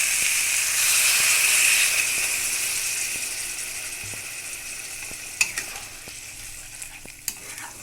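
A splash of water added to well-fried spice paste in a pan for a vegetable dish, setting off a loud hissing sizzle that gradually fades, with a few sharp clinks of a utensil near the end.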